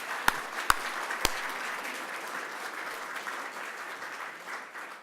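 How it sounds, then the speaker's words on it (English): Audience applause at the 2019 Tyler Prize award ceremony, a steady wash of many hands clapping in a hall, with a few sharp nearby claps standing out at the start, continuing evenly throughout. "Now we can clap."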